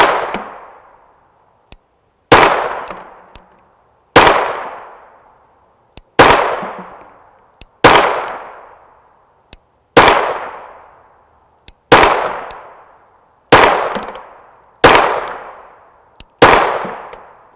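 A suppressed 9x19mm pistol firing 94gr frangible rounds outdoors, ten sharp, evenly spaced shots about two seconds apart, each a loud crack with a ringing tail that fades before the next.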